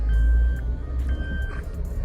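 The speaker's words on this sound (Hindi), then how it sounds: "ये बचता रहेगा क्योंकि पीछे किसी ने सीट बेल्ट नहीं लगाई।" Steady high electronic warning chime inside a Maruti Suzuki Brezza, two long tones separated by a short gap, sounding clearly over low engine and road rumble.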